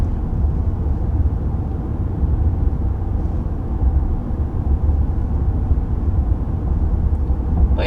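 Steady low road rumble and engine drone inside the cabin of a 2022 RAM 1500 Big Horn pickup cruising at 55 mph, constant and even throughout with no talking.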